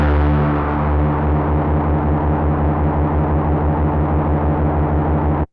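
Heavily distorted, exaggerated effects processing on Rammstein's "Sonne" plays loud and continuous for several seconds, with a dense smeared tone that cuts off abruptly at the end.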